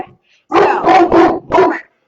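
A pet dog barks indoors at home, apparently at someone at the door: a few loud, close barks in quick succession, the last one after a short pause.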